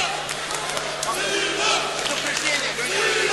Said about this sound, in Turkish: İşte Sinan Sinan sesleri bağcılarda.